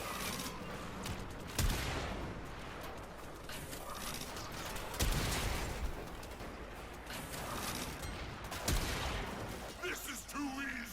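Gunfire in Warframe, a run of shots fired in the middle of a boss fight, with three heavy bursts standing out from constant dense combat noise over about eleven seconds.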